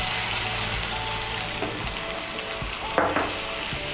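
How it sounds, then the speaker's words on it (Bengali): Pointed gourd frying with spices in a pan makes a loud, steady sizzle and hiss as hot water is poured in, with a sharp spatter partway through. "এর মধ্যে আমি দিয়ে দিচ্ছি 1/2 কাপ গরম জল।"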